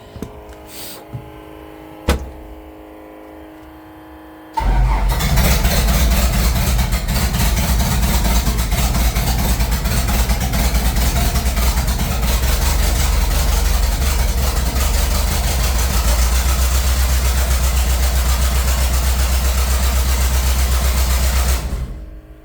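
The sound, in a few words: forklift diesel engine running without exhaust manifold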